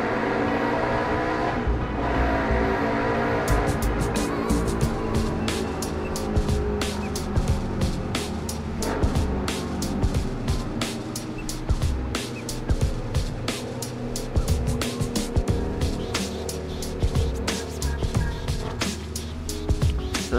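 A vehicle fitted with a bootleg SC Project full exhaust runs steadily for the whole stretch, a continuous loud engine drone with repeated sharp revs and pops, and no talking over it.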